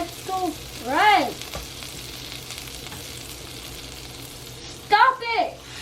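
French toast cooking in a pan, a low steady sizzle under two short bursts of a child's high, sliding vocal sounds.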